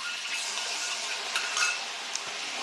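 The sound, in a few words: cashew and poppy seed paste frying in pan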